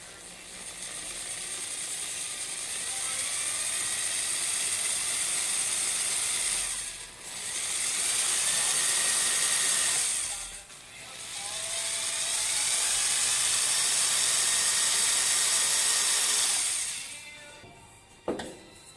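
Small drill bit whining steadily into a metal oil pan, one continuous high-pitched grinding run with two brief pauses, then stopping with a short clunk near the end.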